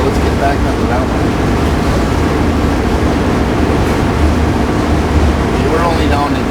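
Engine room of the Great Lakes freighter Paul R Tregurtha with its turbocharger spinning near 21,000 RPM, a loud, steady broadband machinery roar filling the space without pause, with someone talking over it.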